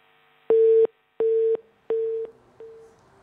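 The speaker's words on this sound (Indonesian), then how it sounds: "terputus sambungan telepon" A telephone busy tone after a disconnected call sounds as four evenly spaced beeps, each about a third of a second long. The tones are loud and clear, and the last one is fainter.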